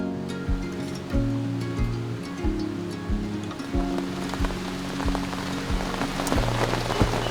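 Rain falls at a desert camp in Nevada, a steady patter of drops on a surface with irregular louder taps and splashes against soft background music, close and moderately loud.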